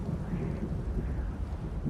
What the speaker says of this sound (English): Thunder. Listen to the wind.